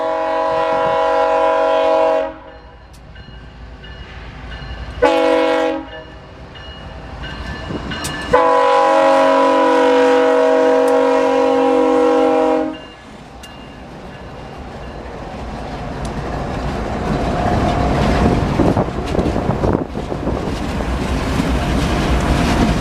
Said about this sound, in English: The leader in this section of video was GECX 2040, while the other foreign locomotive was Canadian National 2884.